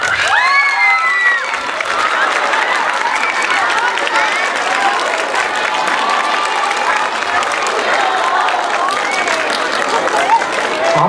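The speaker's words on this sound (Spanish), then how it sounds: "Aplausos, aplausos" Crowd applause and cheering at a Mojiganga festival contest in Tepalcingo, dense and loud, with shouts, whistles and children's voices over steady clapping for a participant.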